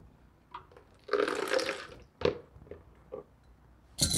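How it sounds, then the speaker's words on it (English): Leftover water poured out of an emptied reverse osmosis filter housing during a filter change, giving a broad splashing gush around the middle, then a couple of short drips and plops, with a brief clatter at the end. "pour out the residual water inside the housing"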